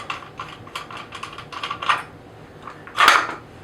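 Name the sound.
unscrewing the magazine cap of a Benelli Nova pump-action shotgun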